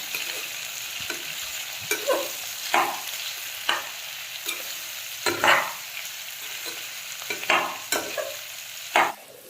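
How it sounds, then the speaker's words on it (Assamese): Chopped onions fry in hot oil for an Assamese pork dry fry, a steady soft sizzle broken by a regular scrape and clatter of stirring roughly every second, close and with no talking. "পিঁয়াজখিনি ৰঙচুৱা হোৱালৈকে ভাজি থাকিম।"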